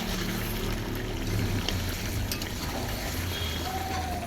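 Chicken curry with spices and new potatoes being sautéed in oil in a pot over a wood fire, a steady continuous sizzle and bubbling close up, with no talking.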